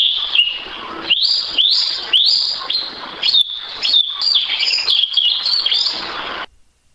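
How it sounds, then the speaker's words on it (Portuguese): Song of the sabiá-una, an Atlantic Forest thrush: a loud, close series of bright whistled phrases repeated in quick succession for several seconds, then stopping abruptly. "que é o sabiá una."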